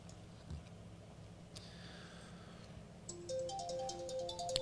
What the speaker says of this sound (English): We have a call coming in during the break.